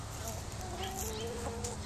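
Backyard chickens cluck softly while pecking at beans scattered for them, several low, murmuring calls over a noisy outdoor background.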